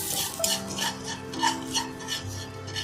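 Ginger is roasted and stirred in a pan, with repeated scraping and rubbing strokes of a spoon against the metal and faint clinks, close and rhythmic with no talk.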